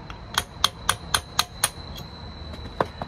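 An air hammer strikes the rear end bushing of a 1989 Mustang GT in a series of sharp metallic bursts, about six evenly spaced hits followed by a couple of lighter taps, close and loud.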